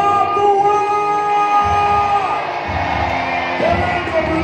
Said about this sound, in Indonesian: Selanjutnya harus dikasih tepuk tangan yang paling meriah